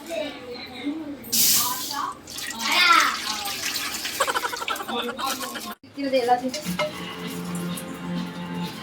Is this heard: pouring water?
yes